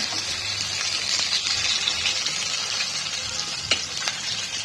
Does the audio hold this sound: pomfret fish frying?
yes